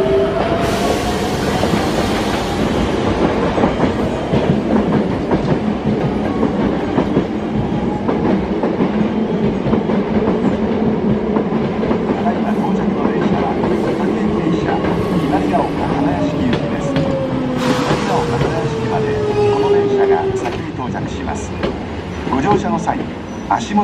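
Hankyu 8000 series limited express train pulling away from a platform at Juso Station, a steady rumble with clicking wheels and a rising motor whine, close and loud, under station announcements.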